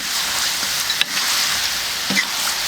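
Duck sizzling as it is stir-fried in a wok with doubanjiang bean paste, a steady close hiss of frying with a couple of soft stirring scrapes, no voices.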